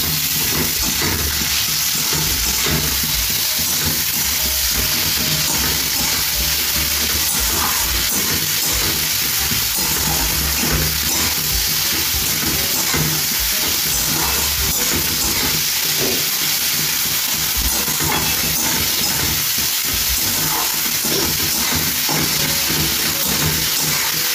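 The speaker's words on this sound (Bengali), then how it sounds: "এবারে আদা রসুনের পেস্টটা দিয়ে দিলাম, আদা রসুনের পেস্ট চলে গেল এটার মধ্যে" Ginger garlic paste sizzles hard in a hot pan with a dense, continuous hiss and crackle, loud and close, with no talking.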